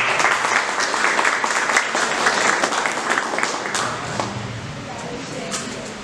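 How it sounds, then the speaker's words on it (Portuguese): Sustained audience applause at a round-table gathering on war veterans, steady and fairly loud, thinning toward the end as murmuring voices come through. "Salva de palmas."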